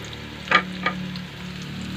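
Garlic sautéing in a pan as the first step of chicken adobo in coconut milk. A soft, even sizzle continues throughout, broken by two quick stirring scrapes near the start.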